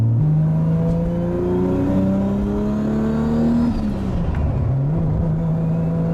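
A Toyota Supra with a 2JZ engine and factory V160 manual transmission revs up steadily, drops pitch briefly during a gearshift, then climbs again; loud and close, with no talk.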